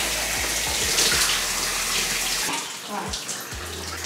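Running water from a tap rinses deep conditioner out of a section of natural curly hair, a steady close gushing hiss that shifts as the hair moves through the stream.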